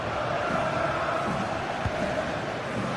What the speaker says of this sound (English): the atmosphere is so tense inside this stadium, but can they find that moment of magic to win this game? The crowd certainly think so. Just listen to them.